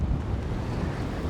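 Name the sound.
strong wind at the beach on Padre Island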